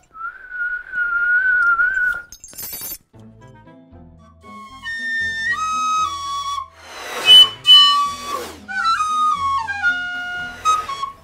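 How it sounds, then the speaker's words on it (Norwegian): A flute plays a bright melodic line at a Norwegian community music school during a Christmas-themed production, starting with a long held note and moving into a sequence of sustained, clear tones heard up close. "Fløyte!"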